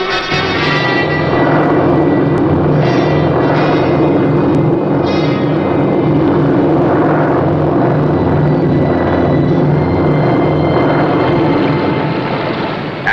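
Patrol aircraft flying overhead, a loud, steady engine drone with broad rumbling noise that holds for about thirteen seconds, close and continuous with no talking.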